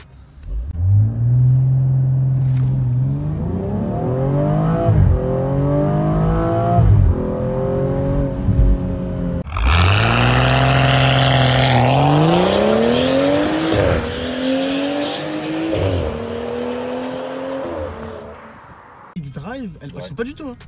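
A BMW 135i F20 with its six-cylinder engine launches hard from standstill, the loud revving rising through several quick upshifts across the run, with a person talking over the engine noise.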